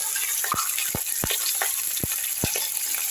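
Onions frying in hot oil with whole cumin in a wok, a steady close sizzle punctuated by several sharp crackling pops at irregular intervals, with no talking.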